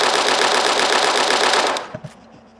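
An AK-74M rifle in the video game Arma 3 fires a rapid, loud, continuous automatic burst for nearly two seconds, then stops abruptly, leaving a few faint mechanical clicks.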